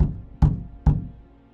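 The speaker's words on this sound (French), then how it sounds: "T'entends toquer à ta porte." Three sharp knocks on a door, evenly spaced about half a second apart, each a solid thud with a brief decay, heard alone in quiet surroundings.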